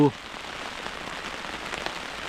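Rain falling on a mountain hike in Laos, a steady close patter of drops hitting surfaces, continuous throughout with a brief sound at the start.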